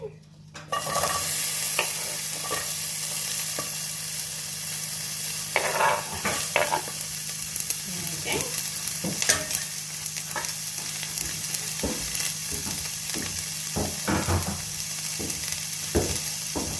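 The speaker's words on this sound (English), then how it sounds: "now I'm going to add my peeled chopped onion" Peeled, chopped onion fries in hot oil in a pan, a steady close sizzle broken by repeated scraping and clatter as it is stirred, with no voices.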